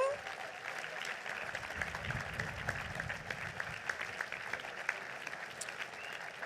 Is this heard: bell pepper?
no